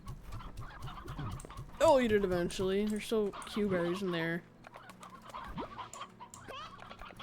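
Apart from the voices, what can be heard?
chickens clucking in the video game Slime Rancher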